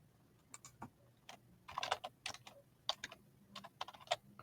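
Fingers type on a computer keyboard in uneven bursts of close, crisp key clicks, quickening into a dense flurry midway and then going on in short runs, with no one speaking.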